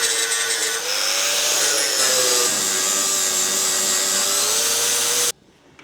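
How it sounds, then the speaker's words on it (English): An angle grinder strips old plating off the front dumb irons of a Land Rover Series 3 chassis, a loud continuous high whine with slight pitch wavers that stops abruptly near the end. "once I grind this bit off"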